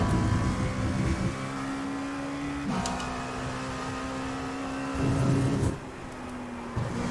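Engine of a Dallara P217 LMP2 race car in the iRacing game, a loud, sustained drone whose pitch holds nearly level, dipping briefly at shifts and easing off near the end.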